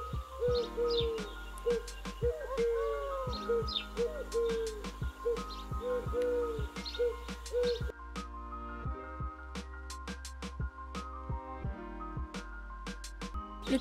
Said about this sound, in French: Le pigeon ramier possède donc 5 roucoulements